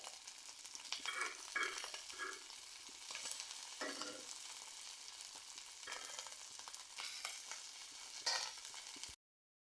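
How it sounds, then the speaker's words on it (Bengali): Chepa shutki, dried fish, frying in oil in a pan, with a steady close sizzle and crackle throughout and intermittent scraping stirs, no voices. "শুটকিগুলো মাঝারি আছে ভেজে নিব"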